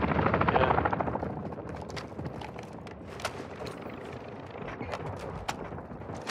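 Heavy helicopter in the video game DMZ, a loud rotor drone that swells at the start and then holds steady throughout, with sharp clicks and faint distant pops scattered over it.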